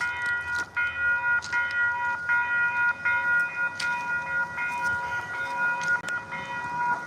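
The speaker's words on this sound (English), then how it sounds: "Here comes our first train." A passing MBTA commuter train with an F40 locomotive, a loud sustained horn chord ringing over the rumble and clatter of the rails, close by and steady throughout.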